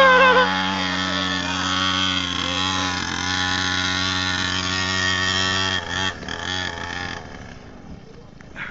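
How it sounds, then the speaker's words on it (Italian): A small mini motorbike engine runs with two riders aboard, a loud, steady buzzing drone that holds at one pitch and then wavers and fades toward the end. "provano ad andare in doppio sulla mini moto"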